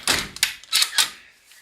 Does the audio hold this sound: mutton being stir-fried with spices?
no